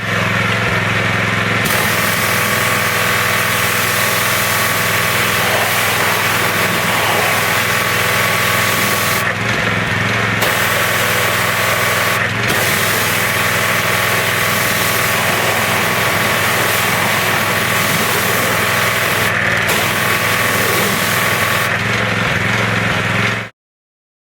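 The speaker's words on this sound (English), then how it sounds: "Probably won't be able to hear me over the pressure washer" A pressure washer blasts a tire clean, a loud continuous droning motor and hissing spray running steadily throughout, with a few brief changes where the trigger is released, then stopping abruptly.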